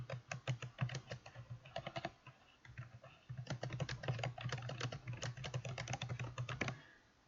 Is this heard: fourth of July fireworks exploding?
no